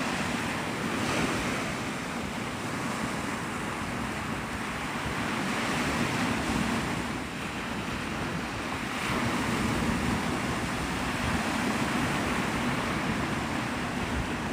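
Ocean surf and wind at Navarre Beach, Florida, a continuous broad roar of breaking waves with gusty wind buffeting the microphone, steady throughout with no voices.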